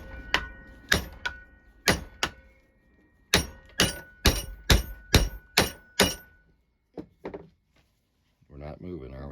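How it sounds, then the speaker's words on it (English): A sledgehammer strikes a Lucas starter in about a dozen loud, sharp metallic blows, coming in quick bursts with short pauses between them. A voice is heard briefly at the end. "Now we're gonna try sledgehammer."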